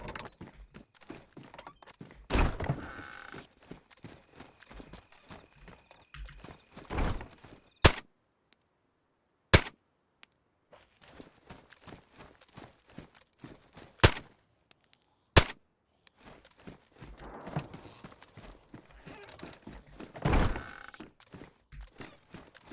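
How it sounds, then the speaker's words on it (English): Suppressed AN-94 rifle in DayZ: quiet, muffled shots spread across stretches of soft ambient noise, with a few sharp, louder cracks standing out and faint footsteps between them. "Listen to how quiet this suppressed AN-94 is."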